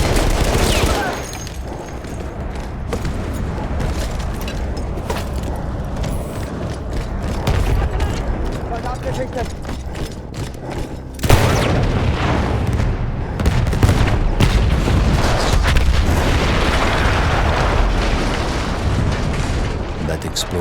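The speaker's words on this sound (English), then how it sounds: "That explosion was one of the sweetest sights of the war for me." Heavy gunfire and a big explosion in the Battlefield 1 war campaign, a continuous loud barrage of rattling shots and booming blasts that swells sharply about halfway through and keeps rumbling to the end.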